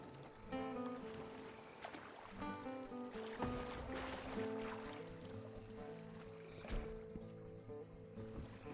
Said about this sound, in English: Just jump in the canoe and paddle away.